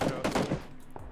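Quick burst of close gunfire in PUBG, several rapid shots crowding together in the first half-second, then a thinner tail with one more faint report.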